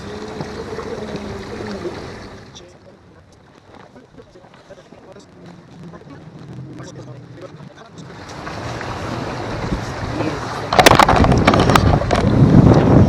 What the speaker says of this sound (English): we're all making fun of the motor because it's pretty slow